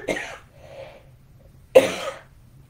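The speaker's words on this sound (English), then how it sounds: "I might cough for a minute." Two short, harsh coughs, one at the start and another a moment later, close and fairly loud in a quiet room.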